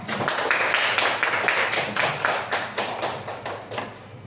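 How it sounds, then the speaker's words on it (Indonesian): A classroom of pupils claps hands together in a quick, steady patter that swells and then gradually fades, close and without talk. "Coba tepuk tangan dulu semuanya"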